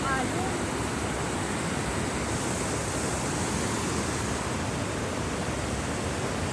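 Strong waves produce a continuous, dense roar of rushing water and surf, a steady broadband wash with no clear gaps, heard from nearby.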